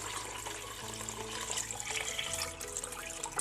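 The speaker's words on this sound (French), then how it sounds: "Et maintenant, je vais ajouter l'eau." Water poured into a pot of rice mixed with onions for turmeric rice with vegetables, a steady close splashing and trickling that runs without a break and with no talk.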